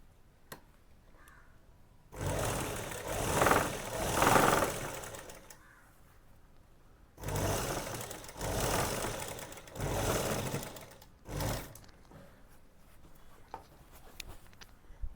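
A tailoring sewing machine runs in three bursts while stitching a double seam on gents shorts, a steady whirring rattle that stops and restarts, with quiet pauses between runs and no talk.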